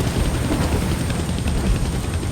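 A helicopter in the Deadpool video game gives off a continuous, heavy roaring rumble that stays loud and unbroken, with no speech on top.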